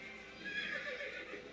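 A horse in the Assassin's Creed video game gives a single drawn-out whinny, fairly clear and alone, lasting over a second with a rising and falling tone.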